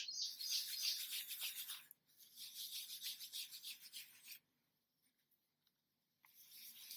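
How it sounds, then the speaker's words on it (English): A cloth rubs a beeswax and olive oil mix into leather in circular motions, producing soft, close scratchy swishes in two bursts separated by a quiet pause. "we're going to take a little bit on the cloth and rub it in circular motions"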